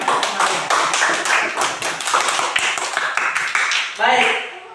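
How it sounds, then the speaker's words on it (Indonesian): Schoolchildren clapping in a classroom, a brisk run of many close, loud hand claps with a voice speaking over them, ending in a short burst of louder talk. "Tepuk tangan dulu untuk anak-anak semuanya"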